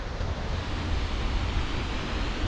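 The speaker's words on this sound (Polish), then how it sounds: "pokażę wam rzekę." A river flows through a cold winter landscape in Iceland, heard as a steady, loud rushing roar blended with wind buffeting close to the microphone.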